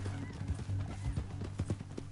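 Horse hooves clip-clop at a walking pace in the game Red Dead Redemption 2, a fairly quiet irregular series of soft thuds over low background music.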